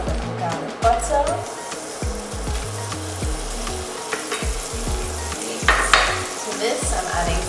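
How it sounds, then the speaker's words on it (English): Garlic butter sizzles in a medium pan, a bright, continuous frying crackle heard close up, with occasional stirring and someone talking over it. "I'm going to start nice medium pan with a little garlic butter"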